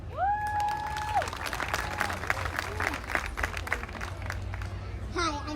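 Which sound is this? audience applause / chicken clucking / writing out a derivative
audience applause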